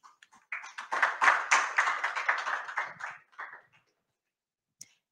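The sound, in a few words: audience applauding the panelists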